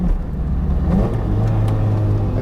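A classic Ford Fiesta XR2 engine revs briefly near by, a steady mid-pitched drone swelling slightly, heard alone with no voices.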